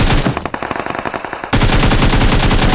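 Loud automatic gunfire in PUBG Mobile, a rapid close burst of rounds that briefly thins into spaced shots before resuming in a dense, continuous stream.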